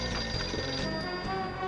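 An electronic telephone ring sounds from a pinball table in the Pinball Arcade video game, a loud, continuous trilling tone over busy machine noise.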